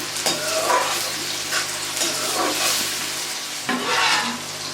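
Chopped onion and two tomatoes fry in a pan for a white rice and chicken dish, a steady close sizzle broken by the scrape and clatter of stirring, with no talk.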